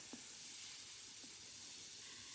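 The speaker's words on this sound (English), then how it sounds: "I hope you can hear it fizzing" A vinegar mixture fizzing in a steady, soft hiss that runs unbroken throughout, close and fairly quiet with a couple of faint clicks.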